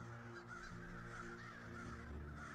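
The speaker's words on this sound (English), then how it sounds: "Whenever something bad is going to happen on a movie, you hear a crow call in the distance." A crow gives a few faint caws far off, heard as distant calls under a steady hum and low background noise.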